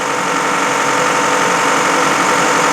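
A 2007 Toyota Camry's 16-valve VVTi 2.4 liter inline-four idles steadily at close range on a cold start, a constant dense mechanical hum with no breaks or revving.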